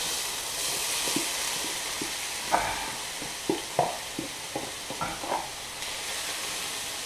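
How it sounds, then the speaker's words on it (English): Onions and carrots frying in a pan for a basil tomato sauce give off a steady, close hiss and sizzle, broken by a handful of soft knocks and stirring clatters partway through. "now we add our onions and carrots"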